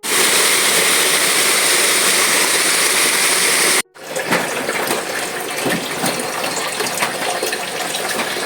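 Busay Falls pours in a loud, continuous roaring rush of water, broadband and unbroken, briefly interrupted by a short cut before the steady torrent resumes with some splashy texture.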